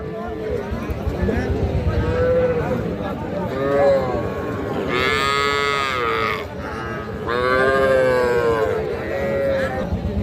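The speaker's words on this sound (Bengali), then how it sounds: "একটা বকনা বাছুর সাইওয়াল জাতের" A Sahiwal heifer calf at a busy cattle market gives two drawn-out moos, each lasting over a second, heard close against a steady backdrop of people talking and market bustle.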